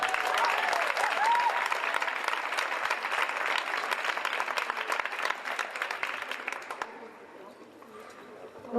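Audience applause at an Icelandic artistic gymnastics championship, a dense loud roar of clapping in a large hall that holds steady for about seven seconds, then drops to a lighter scatter of claps.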